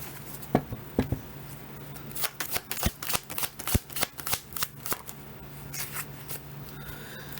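Tarot cards being shuffled by hand to draw a clarifier card, a run of quick crisp riffling snaps and soft slaps, close and fairly quiet, with no talk over them.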